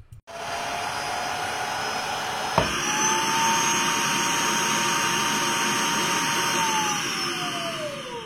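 Tineco Floor One S3 wet vacuum in brush-cleaning mode starts with a click and whirs loudly. Its motor pitch climbs partway through, then holds a steady high whine close up.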